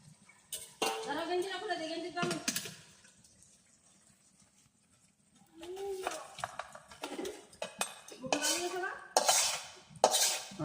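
A metal spoon clinks and scrapes against a cooking pot as curry is lifted off the stove, sharp rattling bursts separated by a quiet stretch, with someone talking over parts of it.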